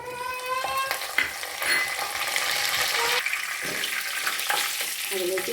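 Curry leaves sizzle in hot oil alongside already-popped mustard seeds while a coconut tuna fish pickle is being made, a steady close frying crackle with scattered light pops and faint stirring.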